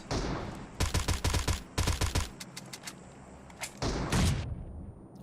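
Rapid gunfire in PUBG Mobile in single-fire mode, loud bursts of quick cracking shots in several rapid clusters, then a pause and one more short burst.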